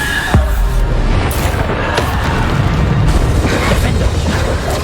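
Bombarda explosion spell blasts in the Hogwarts Legacy video game, a loud boom at the start followed by dense crashing combat noise that continues throughout.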